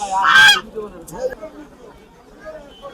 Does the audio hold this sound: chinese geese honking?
yes